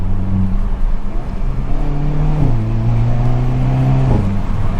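A 2022 Hyundai Kona N engine pulls at about half throttle, a loud, steady close-up drone whose pitch climbs and then drops in two clear steps as it shifts gears.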